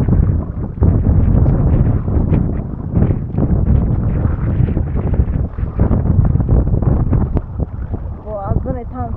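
Strong wind from the strait buffets a sailboat, a loud, continuous low roar of gusts against the microphone that holds steady throughout, with a voice briefly heard near the end.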